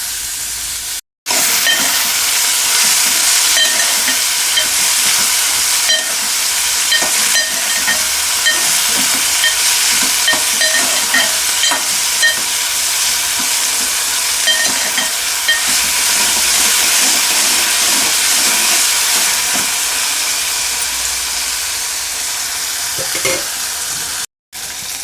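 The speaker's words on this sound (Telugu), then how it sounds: "కొంచెం ఫ్రై చేస్తున్నాను." Vegetables frying in a pan for Tamil Nadu style idli sambar give off a loud, steady, close sizzle that keeps going throughout, broken by a couple of brief cuts, with no talking.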